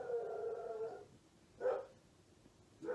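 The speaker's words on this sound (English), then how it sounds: "My dog is going crazy outside." A dog howls and barks outside, heard faintly in one sustained howl followed by two short bursts.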